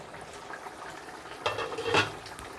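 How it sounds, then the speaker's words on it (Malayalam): Duck roast masala in an open pot bubbling over full flame, a soft steady simmer with a louder burst of bubbling and a spoon scrape near the end, close and alone. "നന്നായിട്ട് തിളച്ചിട്ടുണ്ട് വെള്ളം."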